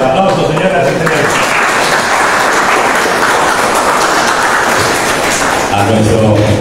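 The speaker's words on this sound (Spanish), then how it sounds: "Una vez más, el aplauso, señoras y señores." A seated audience at a journalists' federation committee swearing-in ceremony applauds in a loud, dense, continuous roar that stays steady throughout, with voices blending in.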